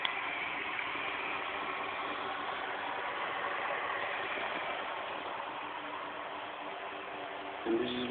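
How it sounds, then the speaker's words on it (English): A Newman motor replica powered by a 12V 5-watt solar panel runs with a steady, even mechanical whir that stays at a constant level, with a brief small knock near the end. "This motor is running pure on solar energy."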